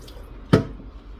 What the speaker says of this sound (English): I'm gonna just dump the water